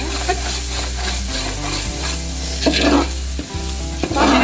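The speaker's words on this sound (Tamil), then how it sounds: "தக்காளி போட்டு 5 to 10 minutes நல்லா வதக்கிட்டு நல்லா கிண்டி விடுங்க." A spoon scrapes and stirs tomatoes sautéing in a hot pan for chicken dum biryani while they sizzle steadily, with a few louder clanks against the pan.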